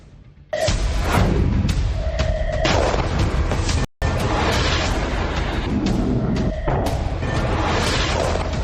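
A loud explosion in Pakistan, with heavy booming blasts and crashing rumble that start abruptly and stay dense and roaring, broken by a brief cut before further thundering impacts.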